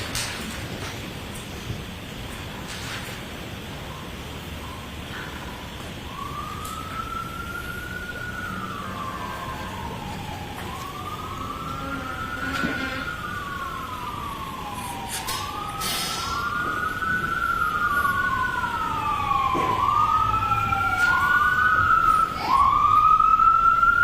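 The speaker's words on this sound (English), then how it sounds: "wait until the sirens pass" Emergency vehicle sirens pass by outside, wailing and yelping tones sweeping up and down that grow louder and more layered toward the end, over steady background noise in an indoor courtroom setting.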